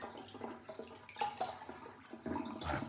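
Hot water runs from a tap onto a shaving brush, a soft, close splashing trickle with small uneven spurts and a brief louder gush near the end.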